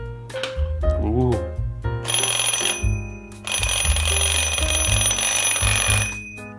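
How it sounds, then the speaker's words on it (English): An alarm clock rings with a loud, harsh electronic buzzing in repeated pulses, close up, while someone speaks over and between the bursts. "Look, when the alarm goes off,"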